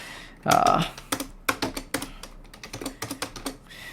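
Someone types on a computer keyboard while working through discrete math propositional logic exercises. Quick clusters of close, crisp key clicks come in uneven bursts, with a short spoken sound near the start.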